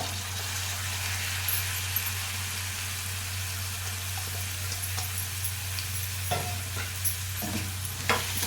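Boiled chana dal and grated coconut are stirred into a curry in a hot pan, giving a quiet sizzle with soft scraping and several light clinks of the spoon.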